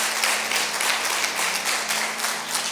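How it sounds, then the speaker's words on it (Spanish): A church congregation claps for the event organizers and volunteers in dense, sustained applause that stays loud and even throughout, with no voices over it. "Yo quiero darles un aplauso a ellos."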